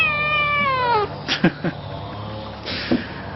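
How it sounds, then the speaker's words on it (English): A pet cat gives a drawn-out, falling meow close by, followed by a few short snorts or sniffs and a brief second yowl, with no one speaking. "It doesn't help having an insane kitty around, does it?"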